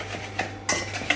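A spoon stirs a dressing of garlic, thyme, sweet chilli and vinegar in a bowl for a BBQ, giving a few close scraping, clinking strokes with a sharper knock near the end.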